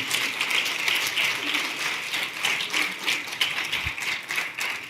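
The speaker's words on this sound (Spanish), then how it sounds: "Démosle un aplauso al Señor." A church congregation applauds together at a sermon about Esther, a steady dense wash of clapping holding evenly throughout, moderately distant and filling the room.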